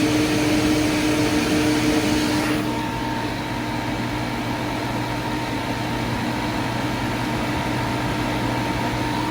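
A refrigerant recovery machine runs on a freezer that is not cooling, giving a steady, loud mechanical drone with a hissing wash of noise. The tone shifts slightly a few seconds in, then continues evenly, with no voices.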